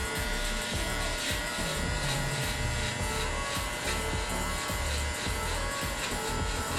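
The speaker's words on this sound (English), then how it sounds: "pay attention to the sound the clipper is making too" A steady, close electric hair clipper buzz runs throughout, loud and continuous with a dense, even drone.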